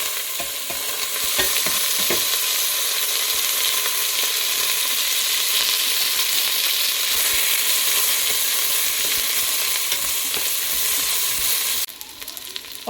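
Onions, green chilies and curry leaves fry in oil with ginger-garlic paste in a home kitchen, a steady loud sizzle running throughout with occasional stirring scrapes, easing slightly near the end.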